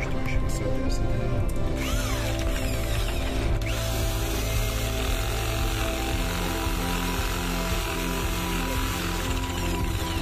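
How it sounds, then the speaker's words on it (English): A homemade AC generator with an unbalanced rotor spins and vibrates, making a continuous loud mechanical hum with a rattling, buzzing chatter that holds steady throughout. "The vibration of the generator is high due to the imbalance of the rotor"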